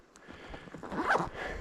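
A zipper is pulled closed on a bag holding a drone, one steady zipping stroke rising in loudness, close by and outdoors on a forest trail.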